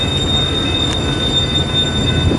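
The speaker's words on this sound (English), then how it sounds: "manifest train working the yard here in Fremont on the BNSF side" A BNSF manifest freight train working the rail yard in Fremont, Nebraska, with a steady close rumble of rolling cars and a thin, high, sustained wheel squeal over it, with no talk.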